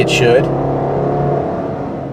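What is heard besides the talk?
Subaru Impreza accelerating in simulated first gear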